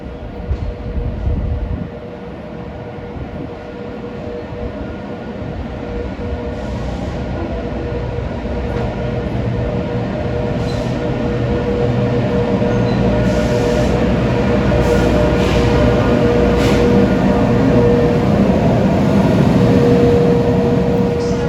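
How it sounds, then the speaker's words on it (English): An LIRR Z train, number 8011 from Ronkonkoma, running quietly in electric mode as it arrives on track 2 at Jamaica station, a low rumble of wheels and motors building steadily with brief high squeals near the end. "Here comes train 8011, a Z train from Ronkonkoma to New York"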